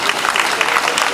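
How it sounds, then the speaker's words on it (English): Audience applause filling a tribute night for a late justice at a dome venue in Akure, a steady dense wash of clapping with no breaks across the short moment. "I think you could give him a lot of applause."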